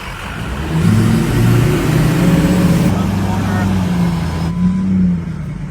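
A truck engine revs hard and wavers up and down during a timed dirt-slinging challenge, loud and close, while people shout and talk over it.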